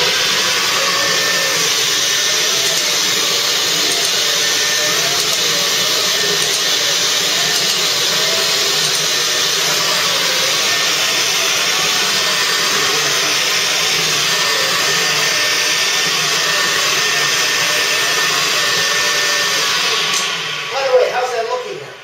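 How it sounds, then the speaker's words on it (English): A carpet cleaning vacuum machine running continuously, a loud, steady roar with a whining hum that holds for about twenty seconds before shutting down near the end. "do your normal vacuuming that you would normally do on a daily basis, but just using this machine versus your normal upright"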